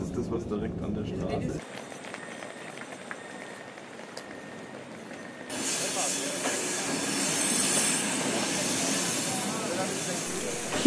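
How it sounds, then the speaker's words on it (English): A passenger train rolls through snow-covered mountains west of Oslo, Norway, with a continuous rumbling hiss, which suddenly brightens and grows louder partway through; a voice speaks over it. "We're traveling by train to Myrtle, through the snow-covered mountains west of Oslo."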